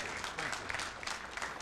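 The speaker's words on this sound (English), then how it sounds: "I think we all should give an applause to Dr. Mendoza." Congregation applauding after a talk at a synagogue gathering, a soft continuous patter of many hands from across the room, fairly distant and quiet.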